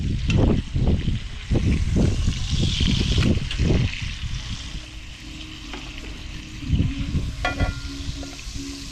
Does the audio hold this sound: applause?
no